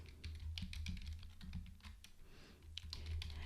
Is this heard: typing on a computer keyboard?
yes